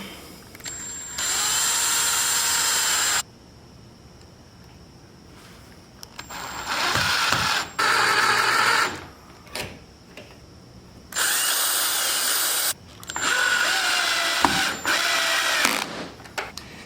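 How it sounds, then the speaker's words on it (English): A power drill drills pilot holes for latches on a DIY rooftop tent, whirring in several loud bursts of a few seconds each, separated by quiet pauses and light handling clatter. "So let's get these latches installed. I'm gonna do a little pilot hole."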